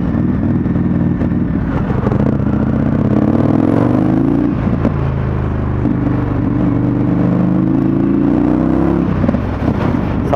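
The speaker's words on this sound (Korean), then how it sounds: "배기음이 장난이 아닙니다." An Indian FTR1200 motorcycle accelerates hard, its exhaust roaring loudly and rising in pitch through a gear, dipping briefly at the shift, then climbing again in a steady, close, continuous drone with no talk.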